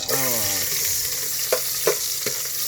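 Food fries in hot oil in a pan with a steady, loud sizzle, and a few clattering stirs of a utensil cut through it. No one speaks.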